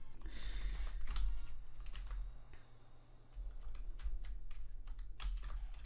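Rapid, uneven clicking of keys on a computer keyboard while a chat message is typed during a Minecraft QuickBedwars game, close and steady over a low background hum.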